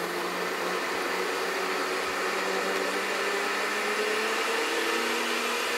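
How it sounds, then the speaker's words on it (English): A blender running steadily on hot butternut squash soup, a loud continuous whirring drone with a slowly rising motor pitch, heard alone without talk. "We keep blending this now"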